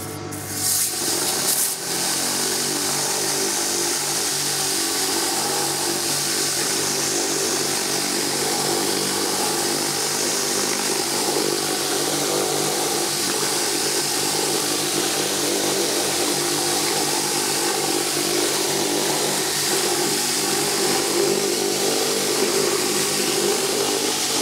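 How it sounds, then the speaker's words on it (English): A Bosch Aquatak 1200 Plus pressure washer fitted with a rotating patio cleaner roars in a loud, steady, unbroken rush across a patio, after a brief bump at the start. "once you attach a patio cleaner onto one of these things, it absolutely like transforms cleaning the patio"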